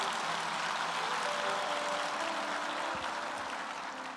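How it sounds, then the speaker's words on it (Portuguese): A church congregation applauds during a worship service, a broad continuous wash of clapping from many hands, heard from some distance and holding steady before gradually fading. "Quer aplaudir Jesus?"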